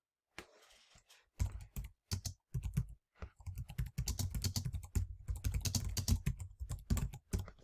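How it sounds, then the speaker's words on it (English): Rapid clacking keystrokes on a computer keyboard come in bursts with brief pauses, close and clear, with no voice over them. "I'm going to type in"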